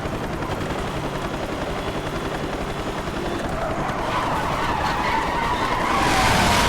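A police helicopter pursues in Need for Speed: Hot Pursuit (2010): a loud, steady rotor chop sits inside a dense roar of racing engines and wind, and the whole mix swells louder toward the end.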